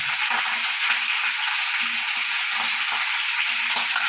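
Garlic and green chillies fry in a hot pan as part of a bean (sim) curry, making a dense, even sizzle close by, with faint light taps recurring through it and no voices.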